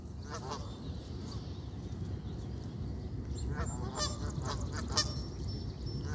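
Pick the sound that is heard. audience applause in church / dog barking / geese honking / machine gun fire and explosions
geese honking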